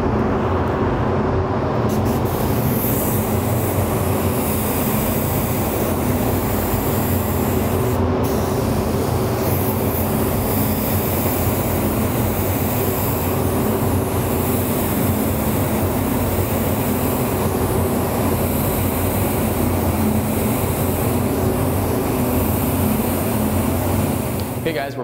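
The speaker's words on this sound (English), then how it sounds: "So I'm gonna go ahead and spray that." Candy paint is sprayed in stripes for a checkered-weave graphic: a loud, continuous airbrush-style hiss that holds steady for the whole stretch with no pauses.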